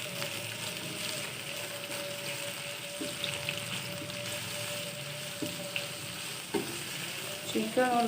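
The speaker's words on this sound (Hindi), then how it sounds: "अब हम वेजिटेबल को भी फ्राई करते हैं।" Chicken and vegetables frying in a pan for spaghetti, a steady close sizzle throughout with occasional utensil stirring clinks, growing busier near the end.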